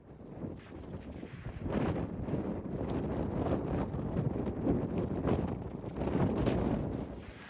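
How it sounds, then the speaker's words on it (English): Steady wind blowing across a snowy mountainside on a long-distance trail, a continuous loud rushing with gusting swells and microphone buffeting, no voices. "The wind's picked up"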